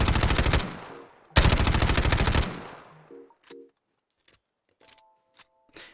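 Rapid automatic MP5 bursts with custom firing sounds from a Fallout 4 mod, two loud sustained volleys followed by metallic clicks and clacks of handling, then sparse small knocks.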